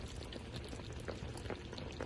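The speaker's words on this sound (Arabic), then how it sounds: "بعد ما ضفنا الصوص هلا هيك مرقة الدولمة صارت تغلي معنا" Iraqi dolma broth boiling in a cooking pot on the stove, a steady dense bubbling and simmering hiss that continues without a break and stays close and fairly loud throughout.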